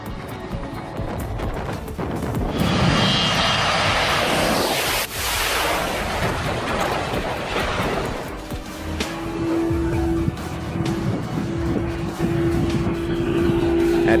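An aerobatic 300-series airplane makes a high-speed pass at an airport show, its engine roar swelling loud and broad, then sweeping past and fading, with a steady drone continuing afterward.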